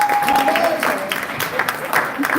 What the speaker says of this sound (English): let's give a round of applause to the trustees.